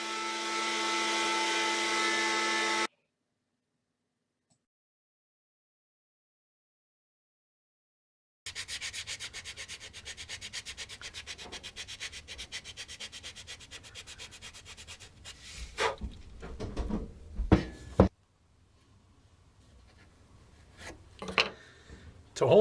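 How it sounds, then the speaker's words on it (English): A wooden duck decoy body is sanded and shaped with a Dremel tool, a power sander and hand sandpaper: a steady close buzzing and rubbing grind after a brief high whine and a pause, then ending in scattered scrapes and knocks. "Then some additional shaping and smoothing using a Dremel tool, a pound sander, and some hand sandpaper."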